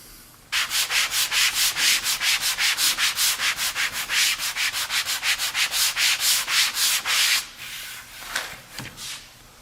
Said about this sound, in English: We're going to sand our door, and then we're going to glaze it.